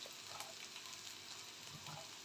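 Faint, steady sizzle of chopped onion and green chillies frying in oil in a pan, a soft continuous hiss with no talking.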